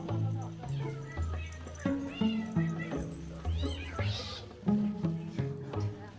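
Kittens at the Kitten Bowl meow repeatedly in short, uneven cries, heard close and fairly faint while people talk over them.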